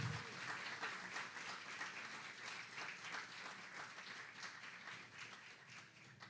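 A church congregation applauds during a service, a dense sustained patter of many hands clapping that carries steadily and then gradually tapers off slightly.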